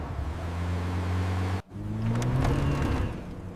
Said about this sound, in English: The car is making a very funny noise